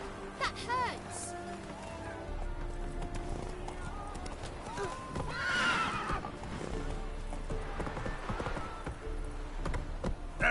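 Roach, a horse in a video game, neighs with a whinny while hooves clip-clop along amid busy game sounds, the neigh rising near the middle over steady background noise.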